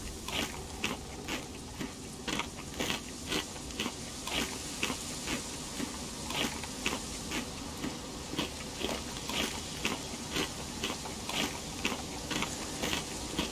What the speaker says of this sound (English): That's just your noise you make when you're eating though.